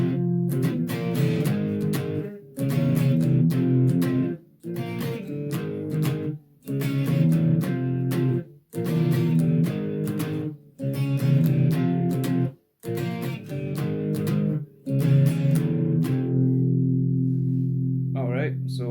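Electric guitar power chords playing a riff, heavy distorted strums in rhythmic bursts with brief muted gaps, loud and close, ending on a sustained ringing chord.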